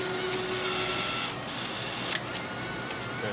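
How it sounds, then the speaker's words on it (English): A receipt printer inside an IGT slot machine whirs steadily as it feeds paper, a continuous close mechanical buzz with a couple of brief clicks partway through. "Let's see what's going on with the printer here. It wants paper."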